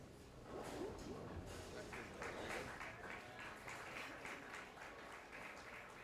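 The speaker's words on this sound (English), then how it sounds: "I get applauded for balking now." Applause from a crowd at a PBA bowling playoff match, steady dense clapping that carries through the whole stretch at a moderate distance, with a voice talking over it.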